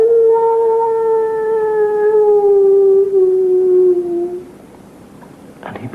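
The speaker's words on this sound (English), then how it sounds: "And in the distance, the howl of the werewolf." A werewolf's howl rises into one long, sustained, slowly falling wail that fades out, clear and alone against a quiet night background.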